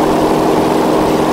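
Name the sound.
aircraft engine in X-Plane 10 flight simulator video game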